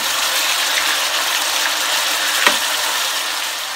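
Liver sizzles steadily in a hot frying pan for a Jamaican-style liver and onions dish, a continuous close hiss broken by one brief clack as the pieces are flipped.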